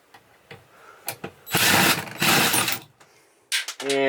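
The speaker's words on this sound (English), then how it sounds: "remove both of these screws here" Screws being backed out of an RV roof vent cover with a power driver, two loud whirring bursts of a couple of seconds each, close to the microphone, separated by quiet handling clicks and taps.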